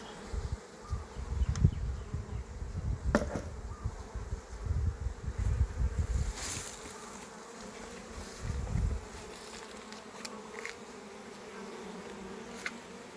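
Bees buzz steadily close by around an open hive, a dense droning hum with occasional sharper passes as individual insects fly near.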